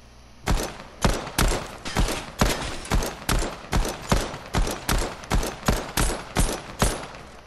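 Gunfire during aim practice in a shooting video game, a steady series of about a dozen sharp, evenly spaced shots, each with a short decay, loud and close.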